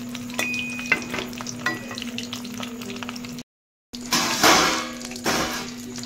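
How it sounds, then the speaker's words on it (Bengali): Lotte (Bombay duck) fish pieces frying in a pan, a steady oil sizzle broken by a few stirring clinks and scrapes, close and moderately loud, with a brief silent gap partway through. "মাছগুলো একটুকুনি লাল করবো"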